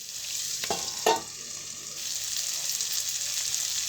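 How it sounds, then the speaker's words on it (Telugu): Onions fry in a pan for atukula poha, a flattened-rice dish, with a steady close sizzle and two quick spatula scrapes against the pan early on. No one speaks. "కొంచెం ఉల్లిగడ్డ బ్రౌనిష్ వచ్చేదాకా కొద్దిగంత వేపుకుంటే లోపు పల్లీలో ఉన్న పచ్చిదనం పోతుంది"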